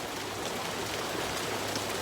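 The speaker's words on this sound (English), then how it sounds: "this rain doesn't help" Steady rain falling outdoors, a constant even hiss of drops spread across the whole clip with no voices and no breaks.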